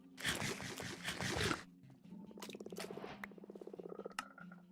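Frogs in the Minecraft Sky Frogs modpack make a dense burst of croaking, then a run of quicker rhythmic croaks and chirps, moderately loud with no talk.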